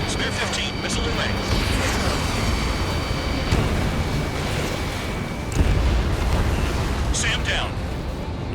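Missile blasts in the Ace Combat 7 air-combat game, a dense rumbling roar with a couple of heavier booming bursts rising over continuous engine and battle noise; voices talk over it.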